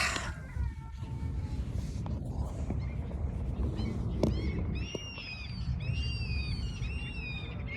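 Birds call loudly outdoors, with repeated rising and falling whistles that grow busier toward the end, heard over steady wind and rumbling background noise.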